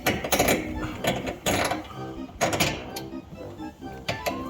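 Steering rack bushing bolts on a Subaru BRZ / Toyota GT86 are tightened with a ratchet: close, loud bursts of rapid clicking come in short repeated runs with brief pauses between them.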